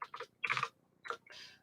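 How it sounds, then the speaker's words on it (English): A clacky computer keyboard is typed on in short irregular bursts of sharp clicks, close and fairly quiet, with brief gaps between the flurries. "You're going to hear my clacky keyboard."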